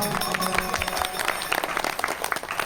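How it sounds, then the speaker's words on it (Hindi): Audience at a religious Bhagwat katha gathering claps in a burst of applause, irregular overlapping hand claps that are moderately loud and continue for a few seconds. "अरे ताली तो बजाओ।"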